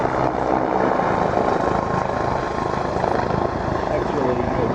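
A Westland Wasp light helicopter drones loudly and steadily with a rapid rotor chop, and a voice talks over the engine noise.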